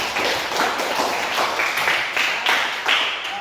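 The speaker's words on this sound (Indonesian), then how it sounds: "Sekali lagi kita beri tepuk tangan untuk kita semua." A small group claps in a quick burst of classroom applause, the hand claps close and uneven, lasting a few seconds.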